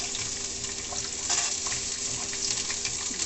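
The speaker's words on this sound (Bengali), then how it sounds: "রসুন পেঁয়াজ দুটোই একসঙ্গে আমি দিয়ে দেব।" Crushed garlic and onion frying with curry leaves in a pan, making a dense, even sizzle close by with small stirring rustles rising and falling throughout.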